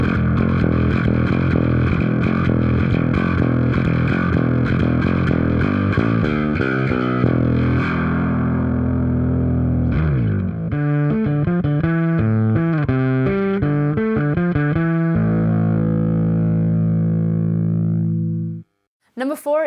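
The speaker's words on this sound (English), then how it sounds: "It's a Darkglass. It's the Alpha Omega 900. And it sounds like this." Heavy metal bass through a Darkglass Alpha Omega 900 amp, loud and distorted, with fast chugging riffs, then choppy staccato notes and a final ringing low note before a short cutoff.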